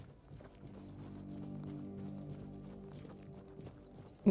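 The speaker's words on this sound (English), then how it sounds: "Oh, my horse is here." A horse's hooves clop softly in the fantasy role-playing game Tainted Grail: The Fall of Avalon, a faint, steady plodding over a low background hum for a few seconds.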